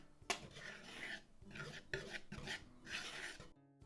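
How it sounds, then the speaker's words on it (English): Flour, baking soda, cinnamon and salt get whisked together in a bowl: several quick, close raspy scraping strokes in short bursts, with brief pauses between them. "That we're just going to add to our flour, and we're just going to whisk this all together."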